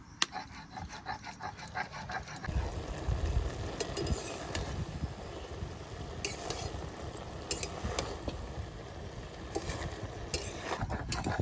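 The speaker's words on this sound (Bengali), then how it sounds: "ঢাকনা খুলে এবার একটু শাপলাটা নাড়াচাড়া দেবো" Water lily stems being stirred in a pan with the lid lifted, a steady soft sizzle of frying with scraping spoon strokes and occasional clinks against the pan, close and continuous.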